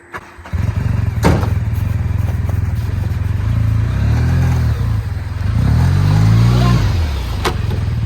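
A car engine starts and revs, then pulls away with rising and falling engine notes, loud and close at first with clatter and thumps over about eight seconds.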